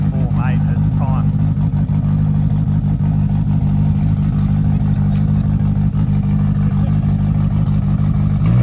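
A turbocharged K-series race car launches down a drag strip, its engine a loud, constant roar filling the whole stretch, with voices faint beneath it.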